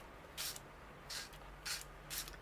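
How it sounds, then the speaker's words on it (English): Four quick hissing spritzes from a spray bottle onto paper, sprayed from a distance, evenly spaced, each a short burst of mist against a quiet background. "I'm going to spray from quite a distance"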